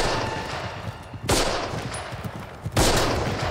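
Two loud, sharp gunshots from a World War II combat scene in Band of Brothers, one near the start and another toward the end, each cracking out over a dense, rumbling battlefield background.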